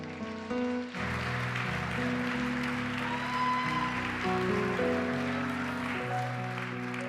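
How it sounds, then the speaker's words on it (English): Audience applause at a charity gala rises suddenly into a steady, fairly faint patter that lasts for several seconds, with sustained music playing underneath. "Can we have another round of applause"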